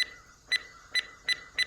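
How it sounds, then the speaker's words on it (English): An electronic device gives five short, sharp, high beeps at roughly half-second intervals, clear and close over a faint quiet background, with no talking. "Enough with that beeping."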